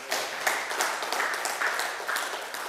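A church congregation applauding and cheering: a crowd claps in an uneven, steady patter with rising swells of cheering, moderately loud and slightly distant throughout.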